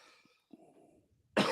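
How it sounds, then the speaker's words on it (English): A loud, close cough bursts out alone near the end after a stretch of near-silence with faint murmuring. "I'll answer as quick as I can so we don't have to hear you cough."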